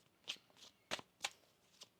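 A deck of tarot cards is shuffled in a few quiet, crisp riffling bursts spaced irregularly over about two seconds, with no talking.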